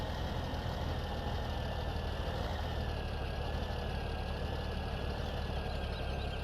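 A tractor engine idles in the video game Farming Simulator 17, a steady, continuous low rumble with a constant whine riding on top, unchanging throughout with no talk over it.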